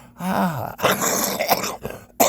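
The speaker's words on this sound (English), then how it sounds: "I'm still coughing, so excuse my cough if you would." A single rough, throaty cough from a person with a viral illness, with a brief groaning voice, close and fairly loud, ending in a short sharp burst.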